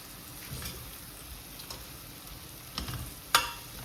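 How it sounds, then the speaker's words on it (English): Cumin, shahjeera and ajwain seeds sizzle in a pan of oil as the base for tomato soup, a soft steady crackle broken by a few sharper spits and pops near the end. "Now to this we add the mix of jeera, shazira and ajwain"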